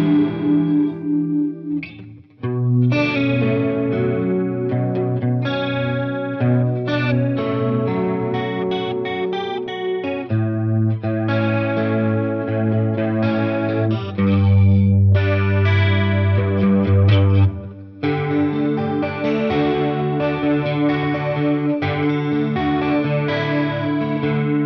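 Electric guitar playing chords and melodic lines through a lush, shimmering chorus effect pedal, steady and fairly loud, with brief pauses between phrases.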